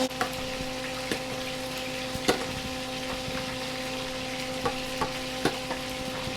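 Pancetta sizzles softly in a hot pan while being stirred, with a steady low frying hiss broken by occasional light scraping clicks.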